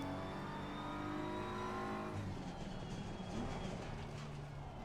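A BMW M4 GT3 engine in the racing game Assetto Corsa Competizione revs hard with a steady drone, then drops in pitch and roughens as it downshifts and settles into a lower rumble.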